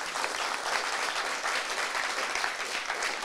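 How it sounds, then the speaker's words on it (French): A studio audience at a televised championship final in an arena applauds the champions, a dense, steady wash of many hands clapping continuously, moderately loud and without speech. "Je voudrais qu'on applaudisse pour tous ces champions."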